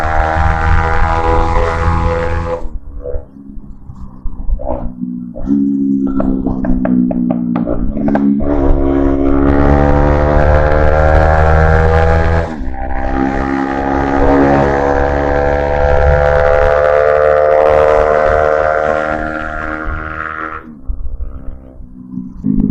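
Modified Bajaj Pulsar NS200 BS3 motorcycle accelerating hard toward 100 on the road, its loud engine note rising steadily through the gears with short dips at each shift and long sustained high-revving pulls between them.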